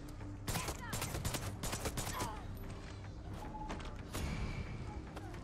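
Rapid bursts of video-game gunfire from Far Cry 6, loud crackling volleys and thuds clustered in the first half, then a further burst near the end, over a steady game soundscape.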